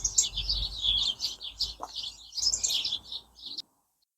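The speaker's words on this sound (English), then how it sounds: "there's a lot of sparrows in there at the moment" Sparrows chirp from inside a garden hedge in a busy, overlapping chorus of quick, bright tweets. The calls are fairly soft and continue for several seconds before stopping.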